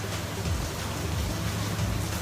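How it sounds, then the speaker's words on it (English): Heavy rain falling outdoors, a continuous, dense patter and wash that holds steady through the short stretch, with no voices over it. "It's raining really hard right now, so if y'all hear that in the background, I apologize."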